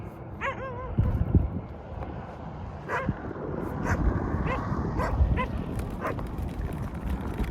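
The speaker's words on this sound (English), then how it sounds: "These reservation dogs are quickly becoming a problem." Several reservation dogs bark, yip and whine at night along a roadside walk, with sharp bursts at mid distance over faint background noise.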